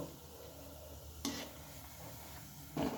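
Pea-stuffed luchi frying in oil, a faint soft sizzle with two brief louder splashes or scrapes as the bread is turned or moved, no voices.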